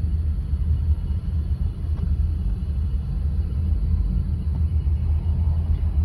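Steady low rumble of a car driving calmly along a city road, heard from inside the cabin as a continuous, even engine and road drone with no talking.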